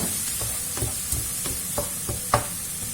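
Chopped onions sweating with a little salt in a hot pan, giving a steady soft sizzle broken by repeated scraping stirs from a utensil.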